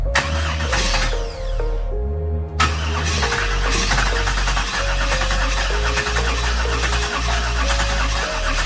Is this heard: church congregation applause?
no